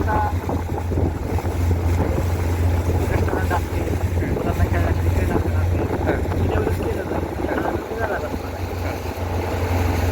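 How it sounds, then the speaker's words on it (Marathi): A motorboat runs across Ujani reservoir, throwing up spray of water. A steady low engine drone mixes with rushing water and heavy wind buffeting the microphone, while a person talks over the noise. "आपण पाहू शकतो बोटिंगमध्ये कसं पाणी म्हणजे फवारे सुरू आहेत अक्षरशः पाण्याचे"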